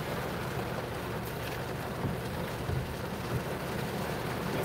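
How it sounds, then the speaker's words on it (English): Heavy rain pouring down outdoors, a dense, steady hiss of drops with a few heavier thuds mixed in, loud and continuous without any voices. "Okay, this is a crazy rain."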